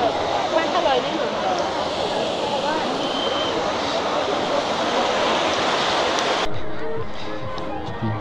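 A river stream rushes loudly and steadily along a muddy, slippery bank, the broad flowing roar continuing throughout before dropping somewhat near the end.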